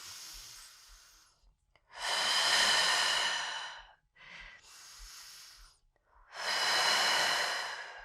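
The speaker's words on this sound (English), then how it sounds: "take a deep breath in, filling up your rib cage, and exhale, hug the ribs in" Two slow cycles of deep breathing during a core-strength twist exercise, each a long airy inhale followed by a fuller, louder exhale, close and clear with no talk.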